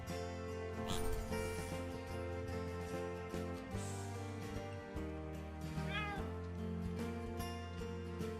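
Cat meows in the video game Find Matt's Cats, short cartoonish mews rising over a busy, tonal game music loop that plays throughout.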